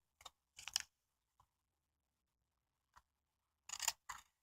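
Flat-bladed sewing scissors making a few sharp snips close up, two quick pairs near the start and end with isolated faint clicks between, in an otherwise quiet room.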